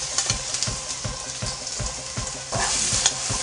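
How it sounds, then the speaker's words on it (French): Onions sizzle in hot oil, a close, steady frying hiss broken by regular scraping knocks of a utensil stirring the pan, with a brighter surge of sizzling near the end. "on met les oignons dans l'huile"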